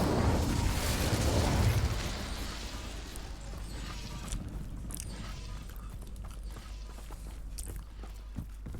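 Incendio fire spell from the video game Hogwarts Legacy: a loud roaring whoosh of flame for about two seconds, then fading into crackling, scattered pops and soft footstep-like clicks in the game's background.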